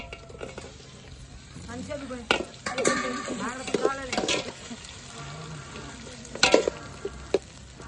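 Tomatoes sizzle and fry in hot oil in an outdoor cooking setting, with stirring scrapes and pops rising over the crackle while people talk nearby.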